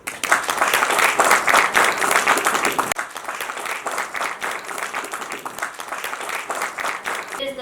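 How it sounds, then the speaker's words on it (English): Resounding audience applause at a school International Women's Day event, steady dense clapping from a crowd that eases slightly partway through and keeps going throughout. "Let's celebrate this powerful vision with a resounding round of applause."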